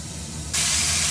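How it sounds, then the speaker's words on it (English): Monkfish kebabs cooking in a covered pan, a low quiet sizzle that suddenly swells into a loud, steady steamy hiss as the heat builds, close and alone with no talk. "There's my fish just cooking away."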